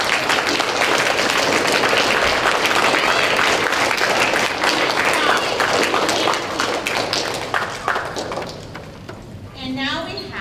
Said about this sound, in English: let's give Mrs. Brown's fifth graders a round of applause